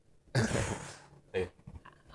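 A man in an indoor talk-show conversation lets out a harsh, rasping cough or throat clearing lasting most of a second, then a second shorter burst, close to the microphone with no speech over it.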